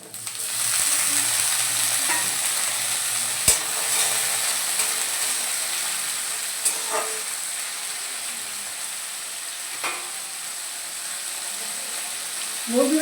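Small diced potatoes fry in a pan for a kalmi greens and masoor dal chorchori, a constant close sizzle with occasional clinks and scrapes of stirring.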